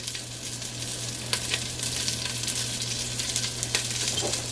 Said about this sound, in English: once you hear that it's already starting to fry